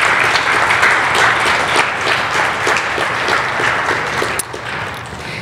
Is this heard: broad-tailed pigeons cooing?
no